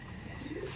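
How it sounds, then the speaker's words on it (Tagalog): Racing pigeons circling overhead give a brief, faint coo over a soft outdoor background hum. "nagro-ronda yung mga ibon natin"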